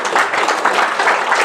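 Applause from a mosque congregation after a religious talk, dense and steady clapping filling the whole moment, loud and close with no voices over it.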